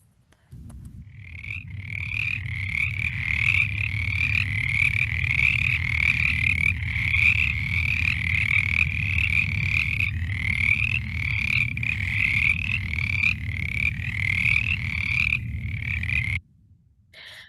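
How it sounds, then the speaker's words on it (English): Mountain chorus frog calling in a wetland chorus: rapid, raspy rising trills repeat at a steady rhythm for about sixteen seconds over a low constant rumble, fairly close and clear, with no talk. "So that's the mountain chorus frog."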